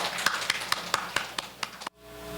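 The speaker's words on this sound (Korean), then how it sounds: "여러분 커다란 박수로 맞이해 주시기 바랍니다" About eight evenly spaced claps ring out in a conference hall, moderately loud and fairly close, then stop abruptly before a quiet hum.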